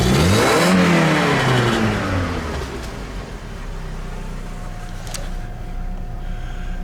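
An old jalopy car engine running rich revs briefly, then drops to a steady, low, rumbling idle that carries on close by with no voices.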